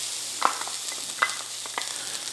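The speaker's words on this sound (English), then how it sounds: "I'm going to start with onions. I'm using a wooden spoon" Onions sautéing in a Lodge cast-iron skillet on an induction burner give a steady close sizzle. A wooden spoon scrapes and taps through them in several sharp, irregular strokes.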